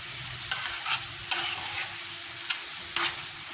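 Chicken livers and gizzards with spices and garlic sizzle in a frying pan while being stirred, giving a continuous hiss broken by several sharp scraping strokes of the utensil.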